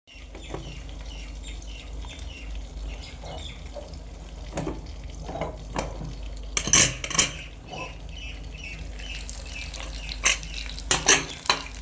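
A pressure cooker holding chicken is opened and checked, with metallic clanks and scrapes of the lid and utensils against the pot over a low kitchen hiss, the loudest knocks bunched toward the end.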